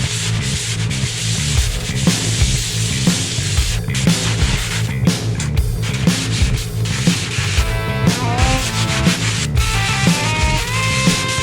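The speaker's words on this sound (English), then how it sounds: "I'm gonna sand some of these crappy spots they tried to texture in" Sanding patchy textured spots on a knock-down textured ceiling, a steady, close, rhythmic scraping and rubbing that continues without a break, with no talk over it.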